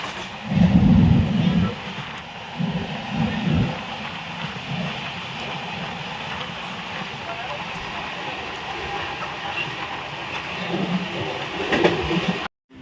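Konkan Railway passenger train running along the line near Khed, a steady loud rolling rumble with rhythmic low thumps throughout, voices talking over it, before the sound cuts out at the end.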